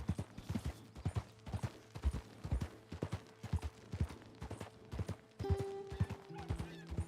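Horse hooves clip-clop steadily in Red Dead Redemption 2, a close, rhythmic trot of evenly spaced thuds with faint creaking tack and a brief higher tone near the end.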